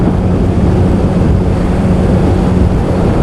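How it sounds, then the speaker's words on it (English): Heavy wind blast roars steadily over the microphone while riding a Yamaha RD350 YPVS two-stroke motorcycle, a loud, constant low rumble that buries the engine sound completely. "And then there's loads of wind blast."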